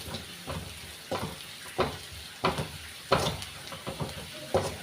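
Masala being sautéed for Kerala-style chicken varattiyathu, a spatula scraping through it in a steady rhythm of about eight strokes over a continuous sizzle, close and fairly loud.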